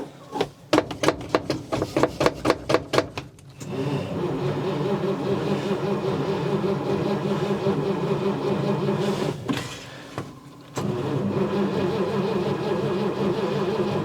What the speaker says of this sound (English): The starter on this thing is weak.